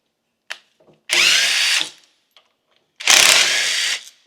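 A power drill whines in two firm bursts of about a second each, removing 3/8-headed screws close by, with small clicks and quiet gaps between the runs.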